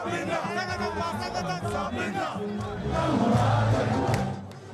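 Protest crowd in Sudan, a dense mass of many voices shouting and chanting together, loud and continuous, swelling louder toward the end.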